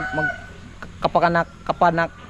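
Many chickens nearby cluck and crow in a few loud, harmonic calls with gaps between them.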